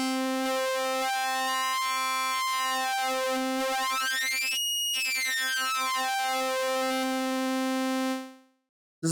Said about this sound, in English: this is sort of like a hard sync sound